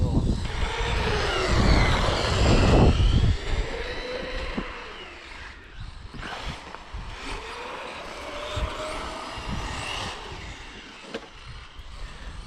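A Tamiya TT01 RC car with a 3500kV brushless motor on 3S power accelerates over icy ground, its electric whine rising and falling in pitch through repeated speed-ups, moderately close, with people talking nearby.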